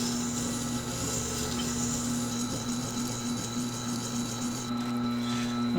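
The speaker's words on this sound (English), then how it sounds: "So I'll go back to using the coarse grind on the wheel." A chisel grinds against the coarse stone wheel of a Tormek sharpener, a steady motor hum with continuous abrasive rasping that holds evenly throughout, with no voices.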